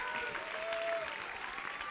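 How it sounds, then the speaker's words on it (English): Audience applause fills an esports main stage at a Classic Tetris World Championship semifinal, a dense, steady clapping wash for the full two seconds with crowd noise and faint voices mixed in. "A round of applause for Dan QZ."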